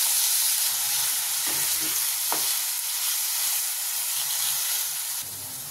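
Tomatoes sizzle in hot oil, a steady loud hiss broken by a few soft stirring scrapes, with no voices.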